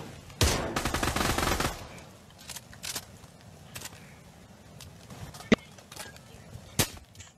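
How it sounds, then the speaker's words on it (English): A rapid automatic burst of gunfire up close in the VR shooter Pavlov, followed by scattered single shots and sharp cracks at varying distances. "They're shooting at you if you take the bomb."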